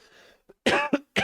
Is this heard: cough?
yes